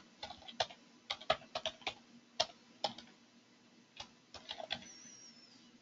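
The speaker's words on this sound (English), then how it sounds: "I'll type it into the chat box right now." Quick bursts of keystrokes on a computer keyboard clack close by in a quiet room, several short runs of taps with brief pauses between them as a web address is typed into a chat box.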